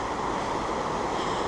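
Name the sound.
River Fillion flowing water, West Highland Way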